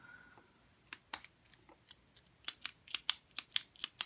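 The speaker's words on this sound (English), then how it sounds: "I like the clicking sound on this pen" A TuL gel pen being clicked repeatedly, sharp crisp snaps close to the mic, scattered at first and then coming in a quicker, fairly regular run, with no talking.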